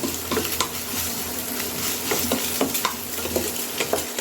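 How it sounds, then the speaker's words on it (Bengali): Egg frying with onion in a pan, being stirred and broken up: a steady close sizzle with repeated scraping and stirring clicks throughout, no voices. "এবার পেঁয়াজের সঙ্গে ডিমটা ভালো করে ভেজে নিতে হবে, একদম ক্র্যাশ করে দেবো"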